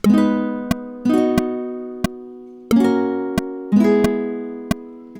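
Guitar chords strummed one after another, each ringing and fading before the next, with sharp percussive strokes between, steady and close.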